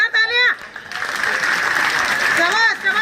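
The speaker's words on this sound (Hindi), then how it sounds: "जोरदार तालियां" An audience at a block-level bicycle distribution ceremony bursts into loud, steady applause to welcome an honored guest, filling the middle of the moment, with a voice speaking just before and after.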